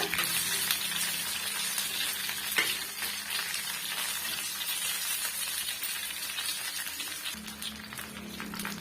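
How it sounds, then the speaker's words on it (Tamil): Masala-coated fish fries on a flat tawa over the flame, giving a steady close sizzle and crackle with a few scrapes and taps as the pieces are turned. "இது போல் நீங்கள் திருப்பி திருப்பி விட்டிங்களன்னா எல்லா சைடும் வந்து அந்த மசாலா நல்லா வெந்து வருங்க"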